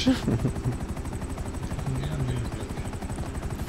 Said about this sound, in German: Der eine ist ein Heli, der andere kommt jetzt.